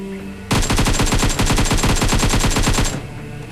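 AKM assault rifle fired in the video game PUBG: one sustained, loud burst of rapid automatic fire lasting about two and a half seconds.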